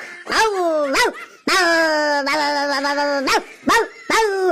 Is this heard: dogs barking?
yes